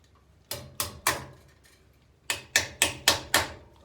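Metal parts of a turbocharged 1972 Chevy Nova exhaust are struck with a hammer while V-band clamps are fitted: three sharp knocks, a pause, then a quicker run of five ringing blows, close and fairly quiet.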